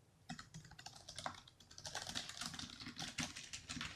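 Typing on a Logitech K800 wireless illuminated keyboard, a dense run of quick, light key clicks and taps heard close up, with no talking.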